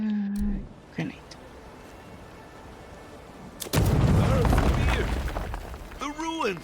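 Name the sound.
grenade explosion in the video game Avowed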